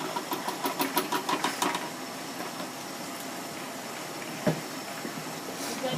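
A stand mixer kneads bread dough for hoagie buns, its motor whirring steadily with a rhythmic thumping pulse for the first two seconds, then a smoother continuous hum with one brief knock near the end.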